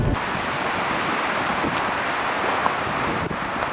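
Strong wind blows outdoors, a steady, loud broadband rush buffeting the microphone throughout with slight gusts and no speech.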